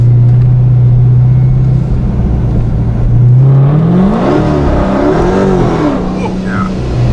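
A 426 Procharged Scat Pack muscle car accelerating hard under supercharger boost, a loud close engine roar climbing in pitch with rising supercharger whine inside the cabin.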